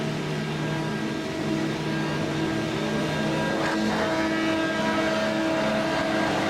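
Race car engines rev up together at the start of an iRacing Grand Prix Series race at Interlagos, a steady, dense motor drone holding over the full stretch with a brief rising sweep midway.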